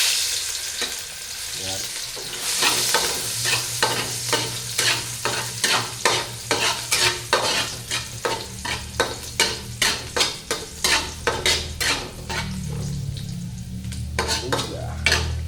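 Ginger sautés in a hot pan with a loud, continuous sizzle, while a utensil scrapes and stirs in quick, regular strokes close by; a voice speaks briefly.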